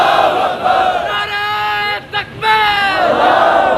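A large rally crowd roars a chanted response to the religious slogan "Naara-e-Takbeer", a loud sustained mass of voices that briefly dips and then surges again.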